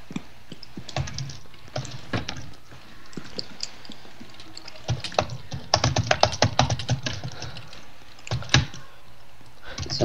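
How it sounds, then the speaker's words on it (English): A computer keyboard is bashed with rapid, irregular, clattering keystrokes during an online roleplay game session, loud and close, with bursts of heavier hammering and no talking. "Someone stop bashing one of their keyboards."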